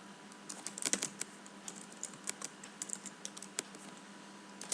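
Typing on a computer keyboard while entering MySQL table fields, with irregular bursts of crisp key clicks and a few louder keystrokes, steady and close with no voices.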